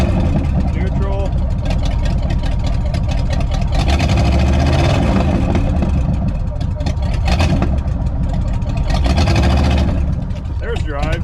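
A 1970 Pontiac Grand Prix with a 360 hp 455 V8 running after being stuck, a loud, close, rumbling engine that holds steady and then swells, with someone talking over it.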